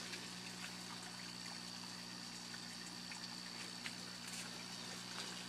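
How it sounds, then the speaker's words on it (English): Water pumps running on buried aquaponics tanks, a steady trickling, pouring flow over a constant low mechanical hum, fairly quiet and unbroken, with no talk. "I'm going to turn off these pumps here."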